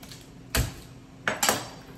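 A knife chopping onions on a board makes three sharp, close knocks: one single chop, then a quick pair near the end, with quiet gaps between.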